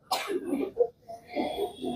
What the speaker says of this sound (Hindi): पहले खांस लो सब अच्छे से, जोर लगाओ, जितना भी खांसी निकाल लो सब।